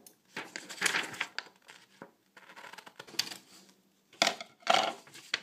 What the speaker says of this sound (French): On va couper notre rectangle.